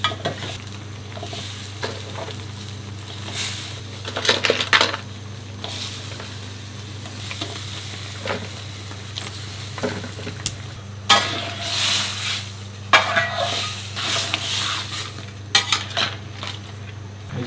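Crab for Singapore black pepper crab cooks in a pan, with a soft steady simmer underneath and occasional clattering stirs of a utensil against the pan.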